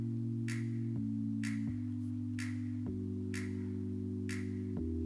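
Dance-pop song verse at 126 BPM with sustained synth chords changing with the progression and crisp finger snaps landing about once per second on the backbeat; no voices.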